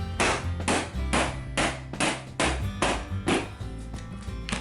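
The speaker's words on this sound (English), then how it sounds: "we just tap it on with a rubber hammer" About nine firm, evenly spaced taps of a rubber mallet on a plastic bucket lid, pressing it shut over stored rice, close and loud, with no talking.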